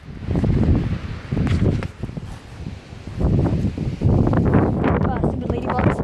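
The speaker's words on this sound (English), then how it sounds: "Oh God, the wind. The wind is coming and coming and coming." Strong gusts buffet the microphone on a building rooftop, rising and falling in loud, roaring bursts as a person talks over them.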